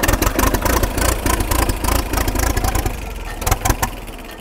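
An old tractor engine with a suspected faulty carburetor runs unevenly nearby, loud chugging and sputtering with a rough, pulsing rhythm throughout, easing slightly toward the end.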